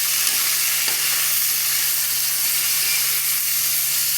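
Puti fish curry masala with green chilli paste is stirred in a frying pan, giving a continuous loud sizzle and hiss with a faint low hum beneath and a soft scrape of the spoon; nobody speaks.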